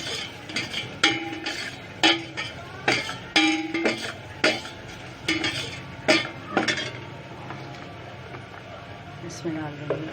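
A utensil repeatedly clinks and scrapes against a pan while a red chili and turmeric spice mixture is stirred on a low flame, giving sharp metallic taps in an irregular rhythm with faint background sizzle.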